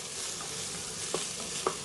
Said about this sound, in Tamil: மிளகாய்த்தூளை எண்ணெயில் லைட்டாக வதக்கிட்டு நம்ம தக்காளி சேர்த்துக்கலாம்